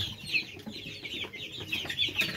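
Young Kuroiler breeder chickens penned together, clucking and chirping repeatedly at close range in a busy, overlapping chorus over faint background noise.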